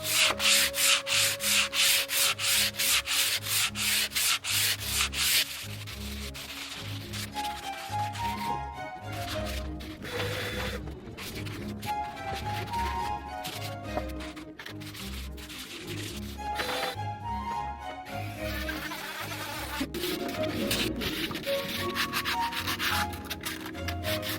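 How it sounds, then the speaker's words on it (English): Wood being smoothed by hand with sandpaper, close rhythmic scratchy strokes, fast and even at first, then irregular rubbing passes with brief pauses. "go over the entire lot again by hand using sandpaper for the final smoothing"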